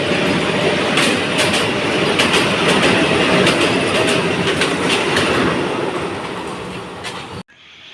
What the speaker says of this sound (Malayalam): ഇവിടെ 20 കാർ വന്ദേ ഭാരത് ഉണ്ട്.